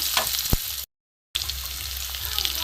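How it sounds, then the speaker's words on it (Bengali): Potatoes frying in a pan for a banana flower dish give a steady, close hiss of sizzling oil with a brief clink, broken by a short moment of silence. "আলুটা ভাজা হচ্ছে"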